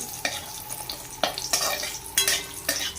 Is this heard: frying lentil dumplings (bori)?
yes